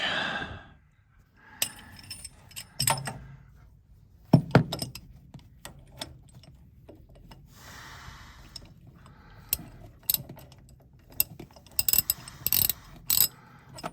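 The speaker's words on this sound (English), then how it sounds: "Let's get a socket on there and see what this oil looks like." A socket wrench ratchets in quick clicking bursts as it loosens the engine oil drain plug on a Studebaker T-24 Weasel, with scattered metallic clinks and knocks between the runs of clicks.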